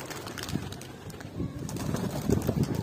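Pigeons coo softly outdoors on a sunny day, with soft, low murmuring calls repeating over light background noise.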